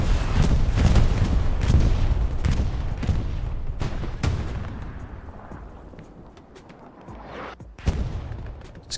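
Bombing run explosions in the WWII shooter Hell Let Loose, a rapid series of heavy booms rolling in one after another, then fading into a quieter distant rumble before one last sharp blast near the end.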